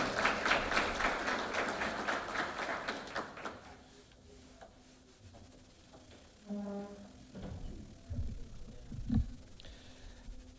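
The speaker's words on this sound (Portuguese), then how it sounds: "render a todas elas uma grande salva de palmas" Audience clapping at a civic ceremony in a municipal chamber, a dense round of applause that fades after a few seconds, followed by quieter room noise with scattered knocks and shuffling.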